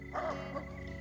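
A single short, yappy dog-like bark, apparently a voice imitating a dog, sounds over a quiet indoor background in an old PTV drama serial.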